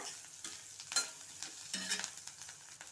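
Green chillies and other pumpkin curry ingredients frying in oil in a pan, a soft steady sizzle with faint stirring scrapes, close and quiet.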